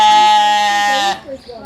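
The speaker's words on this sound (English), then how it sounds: "Sheep look like teddy bears." A single loud, close sheep bleat with a wavering tone, cutting off abruptly into quiet.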